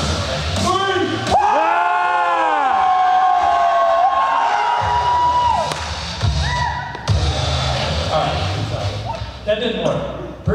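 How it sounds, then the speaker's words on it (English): A congregation at a sermon bellows together in one loud, sustained group shout, with cheering and whoops rising over it before it breaks into scattered voices and talk. "everyone's going to shout these down"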